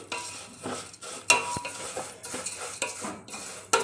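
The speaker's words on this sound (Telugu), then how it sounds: "ఇలా కలుపుతూ సేమియాని వేయించుకోవాలి" Semiya vermicelli frying in a pan while being stirred continuously, rapid irregular scraping and clinking of a spoon over a faint sizzle, close up and quiet with no voices.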